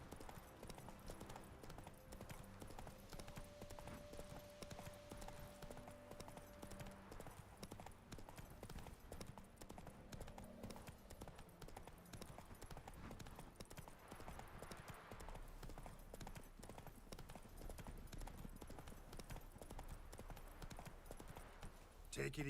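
The horse Roach trots along a road in The Witcher 3, its hooves clip-clopping in a steady rhythm at low level beneath music and a voice speaking.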